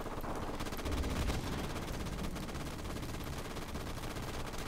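Rapid, continuous gunfire crackles through a Call of Duty Modern Warfare Remastered match, dense bursts at moderate level with a louder low thump near the start and no pause throughout.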